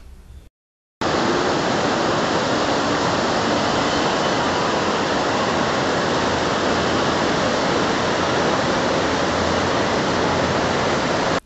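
The Alaknanda and Mandakini rivers flow together at their confluence in the Himalayas, a loud, steady roar of rushing water that continues without a break after a brief gap at the start.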